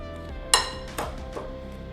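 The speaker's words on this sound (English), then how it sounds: "I got my pastry blender because the butter started blending together" A metal pastry blender clinks against a bowl while cutting butter, cinnamon and oats together. It makes a sharp strike, then a few softer taps spaced apart over a faint background hum, with no talking.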